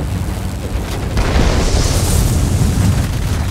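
Bombs dropped on a destroyer in World of Warplanes detonate as a loud, dense rumbling roar that fills the moment, with no talk over it.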